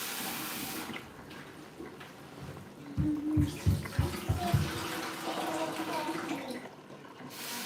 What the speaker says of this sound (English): I want to wash the mushroom.